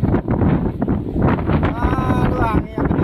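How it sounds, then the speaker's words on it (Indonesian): Strong wind at sea buffets the microphone aboard a boat, a loud continuous roar with gusty surges, while a voice calls out over it near the end. "anginnya keras sekali"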